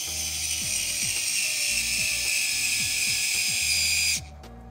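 An electric drill spins a Tamiya 5 mm turnbuckle adjuster wrench, giving a close, steady mechanical whir with a rapid repeating ratcheting clatter that stops abruptly near the end.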